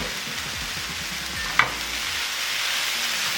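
Crema sauce and cheese stirred in a hot pan, a steady, close sizzle running throughout with a single sharp clack of a utensil midway.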